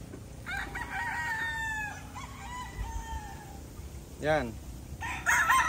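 A young rooster crows loudly and close, one long drawn-out crow with a wavering tail, followed by a short clucking call near the end, over faint background noise and a single brief spoken word.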